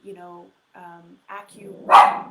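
A small dog barks several times at another dog, short sharp yips spaced over two seconds and ending in a louder burst, close by and with no talk over it.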